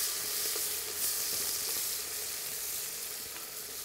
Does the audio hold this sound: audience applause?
no